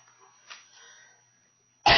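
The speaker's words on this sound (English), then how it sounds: "I could quit coughing here." A single loud cough bursts out at the end of a quiet moment during a county commissioners' public meeting, preceded by faint room noise.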